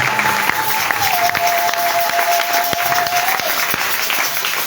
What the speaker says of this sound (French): vous acclamez le Seigneur Jésus-Christ